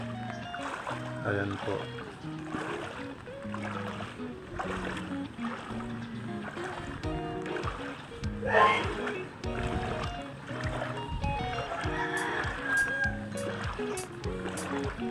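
Someone wades through a strong flood current in Bulan, Sorsogon, Philippines after overnight rain. Rushing, sloshing water runs steadily beneath someone talking throughout, with a brief louder splash midway.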